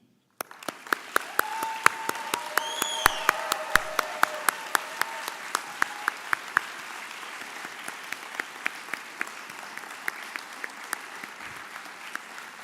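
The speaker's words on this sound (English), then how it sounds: "with all of our applause that we can give, please thank these people for organizing this awesome event" At an International Physicists' Tournament awards ceremony, the audience gives steady, sustained applause for the event organizers, a dense wash of many hands with a few sharp individual claps standing out, continuing alone for over twelve seconds.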